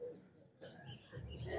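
Free-flying mosque pigeons cooing softly in short, low murmurs, fairly close, with no talk over them.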